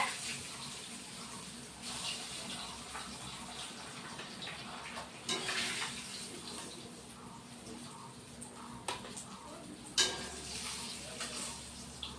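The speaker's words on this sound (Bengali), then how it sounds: "তার মানে বাকি মাছগুলো ভাজতে হবে" Fish pieces fry in a pan of hot oil for a fish curry, giving a steady hissing sizzle with occasional louder spits and pops.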